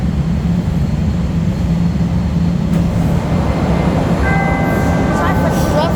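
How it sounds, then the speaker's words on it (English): A Chicago Blue Line subway train rumbles loudly and steadily nearby, with a faint high whine near the end, heard from a platform or car on the way to O'Hare. "That right here is the other train that is going."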